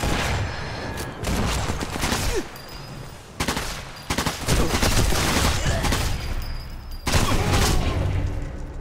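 Dense gunfire and explosions in the shooter video game Sniper Elite 4: sustained loud volleys of shots and booms run almost continuously, broken by a few brief pauses.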